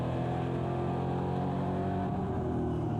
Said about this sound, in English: Great soundtrack from that V8 engine